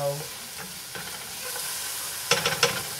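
Onions cook down in a hot pan, making an even, moderate sizzle that runs throughout, with a few short scraping stirs near the end.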